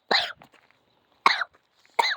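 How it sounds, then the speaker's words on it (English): A person coughs three times in separate bursts, close and fairly loud, with short quiet gaps between them and no talking. "don't cough on Daddy's phone"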